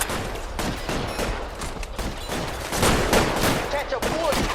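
Rapid gunfire in a shootout in LA Noire Remastered, dense repeated cracks and bursts layered close together at high loudness, with a voice shouting over the shots.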